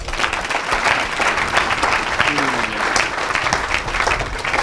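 A church congregation at a healing service bursts into sustained, dense applause with crowd noise and scattered shouts of praise, loud and close throughout.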